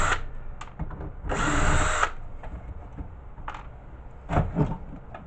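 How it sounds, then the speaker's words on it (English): Power drill backing screws out of a power supply casing, with short whirring bursts and one longer sustained spin, close and fairly loud. "We're going to pull out all screws before I even start to work on it."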